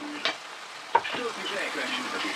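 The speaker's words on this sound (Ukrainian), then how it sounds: "І зараз ми в цей момент додаємо часничок, ось так подріблений" Chopped garlic hitting a pan of frying zucchini, a soft steady sizzle with two sharp clinks of a utensil against the pan.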